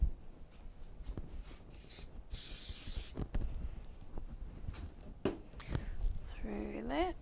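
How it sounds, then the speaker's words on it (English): Hairspray hisses from an aerosol can onto hair in a single sustained burst lasting about a second, close and fairly loud, with quieter rustling and a voice talking before and after. "I'm going to spray a little bit of hairspray."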